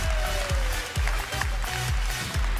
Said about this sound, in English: Round of applause for Ben, guys.